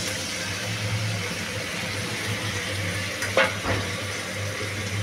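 Garlic, chili, turmeric and ginger fry in hot oil for a dried fish curry, a steady close sizzle with a brief scrape of stirring near the middle, no voices.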